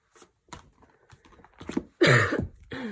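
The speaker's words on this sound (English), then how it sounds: "And I seem to have got a cough." A sharp, loud cough bursts out near the mic after a few quieter scattered sounds, followed by a second, softer burst.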